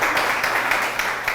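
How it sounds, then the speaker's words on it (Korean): A church congregation at a missions seminar gives a brief burst of applause, a steady, close patter of many hands clapping with no other sound over it. "박수 한번 쳐주세요"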